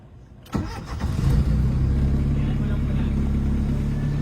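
An old vehicle engine that had sat unused for a long time cranks and catches, starting with a sudden burst and settling into a loud, rough, steady idle close by, while voices shout excitedly over it.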